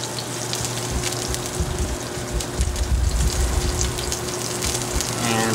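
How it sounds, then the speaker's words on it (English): A salmon fillet seasoned with salt and pepper sizzles in a hot sauté pan, a steady, dense crackle and hiss that runs on without a break, with no talking. "and then we go right into our hot saute pan"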